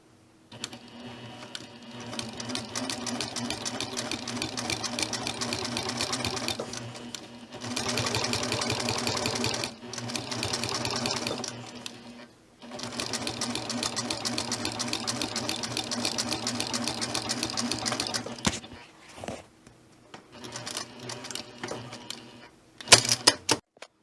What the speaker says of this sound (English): I now have my fabric down on the sewing machine, and I'm just going to run a stitch